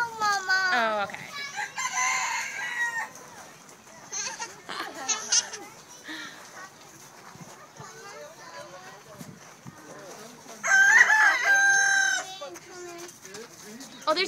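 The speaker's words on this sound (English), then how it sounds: "Maybe we could feed the chickens Kai Kai." Chickens and a rooster at feeding time cluck and crow nearby, with a loud crow near the end, while adults and children talk over the birds throughout.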